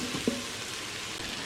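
Vegetables such as potato and cauliflower sizzling and being stirred in an Instant Pot, a steady close frying hiss with one brief scrape of a utensil.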